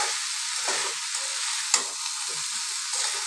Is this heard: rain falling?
no